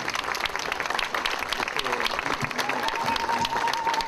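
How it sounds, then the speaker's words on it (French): Audience applause at the Sayfo genocide monument, a dense steady patter of many hands clapping outdoors throughout, with a faint tone sounding near the end. "On peut applaudir."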